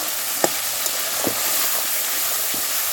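Salt and turmeric go into hot oil for a crab and bottle gourd curry, giving a steady close sizzle with a few soft clinks of stirring on top.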